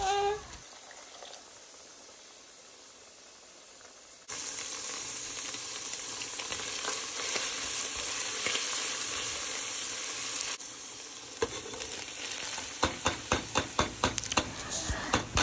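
Chana dal cooks in a hot pan on a home stove, giving a steady, close frying sizzle that starts abruptly and continues with a hissing texture, followed by a run of rhythmic scraping stirs near the end.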